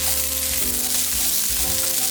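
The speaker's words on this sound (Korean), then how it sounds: "샐러리, 밤, 호두, 은행을 넣고 볶아주세요" Celery, chestnuts, walnuts and ginkgo nuts stir-fry in oil in a pan over medium heat, making a loud, steady sizzle with soft scraping shifts of the ingredients as they are tossed.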